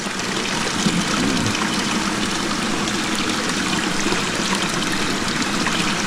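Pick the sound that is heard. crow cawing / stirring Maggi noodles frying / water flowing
water flowing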